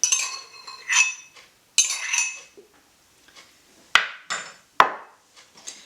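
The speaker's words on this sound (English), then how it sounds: "And I mix it in with this just to make sure it mixes right around properly" Spoon clinking against a bowl while yogurt is mixed in, a series of sharp metallic taps and scrapes in uneven bursts separated by short pauses, close and clear.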